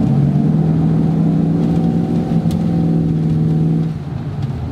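A car with a faulty gearbox, its gears slipping so that park acts as reverse, drives along with a steady, loud engine drone that holds at a constant pitch, then eases slightly near the end.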